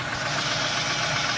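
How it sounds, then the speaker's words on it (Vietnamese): The engine of a 2008 Daewoo Gentra idles in a steady, even drone, close up and uninterrupted, with a smooth mid-pitched hum and faint background hiss. "Máy lổ quá là êm luôn, rất là chất,"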